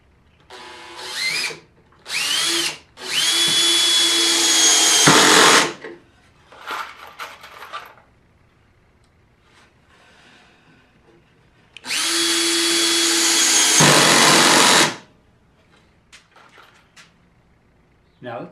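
A power drill drives number 8 stainless steel wood screws into the wooden top of a weather station. There are loud, close bursts of whirring, two short and two long, with quieter handling noise in the pauses.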